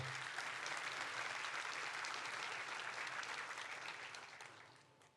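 A church congregation applauding during a sermon, steady dense clapping that fades away over the final second.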